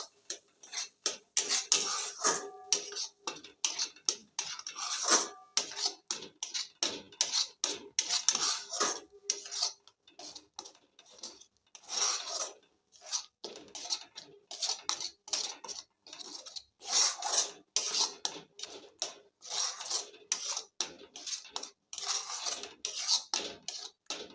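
A spoon stirs palm fruit pulp in a pot for palm kheer. Quick, faint scraping clicks repeat in uneven bursts for the whole stretch, with short pauses and no voices.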